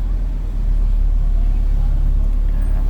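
Engine of a 2011 Suzuki Swift idling with a high-RPM fault, a steady low rumble that stays close and even for the whole stretch with no talking.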